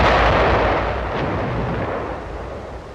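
Artillery and enemy gunfire in a World War II combat setting roll on as a loud, continuous barrage, with a dense rumbling wash and a sharp burst near the middle that fades slightly toward the end.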